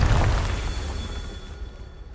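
The Confringo spell in Hogwarts Legacy lands as a deep, muffled blast at the very start, then rumbles and fades away over about two seconds.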